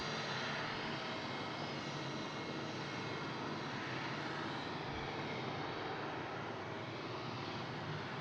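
An Air Canada airliner takes off at Brussels Airport, its jet engines giving a loud, steady roar that holds without a break.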